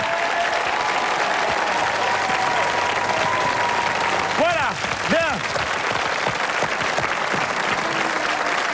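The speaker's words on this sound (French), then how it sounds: "Je voudrais quelques applaudissements pour nos deux équipes fort sympathiques, s'il vous plaît." A television game show studio audience applauds the two competing teams, a dense sustained clapping wash running throughout, with a host speaking briefly over it.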